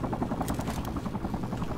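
A steady rotor chop and low engine drone from a helicopter in Sniper Ghost Warrior 3 fill a brief stretch, close and constant, with no voices.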